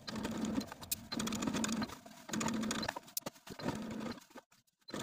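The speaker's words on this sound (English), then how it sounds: "I'm going to take it to my sewing machine and I'm going to stitch in the ditch" Sewing machine stitching in the ditch through a wrap maxi dress bodice and its lining, steady whirring runs repeated three or four times with short stops, close and clear with no talk.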